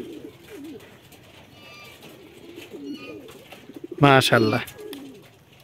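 Pigeons coo in a loft during mating, a string of soft, low, rolling calls close by, broken by a sudden louder flurry, with someone speaking briefly.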